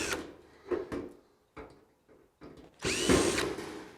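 A power drill backs small Phillips head screws out of the handles on stainless steel outdoor kitchen doors, giving short whirring bursts close by and ending in one longer run.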